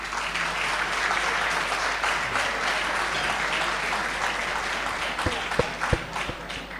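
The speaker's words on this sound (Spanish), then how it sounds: "un aplauso para todos ustedes" An audience at a university lecture event applauds the graduates with a steady wash of many hands clapping at moderate distance, and a few sharper, closer claps stand out near the end.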